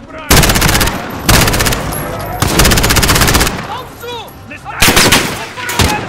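Gunfire in the video game Call of Duty Modern Warfare, set in Saint Petersburg: loud, close bursts of rapid automatic fire in several separate volleys, with shouted voices in between.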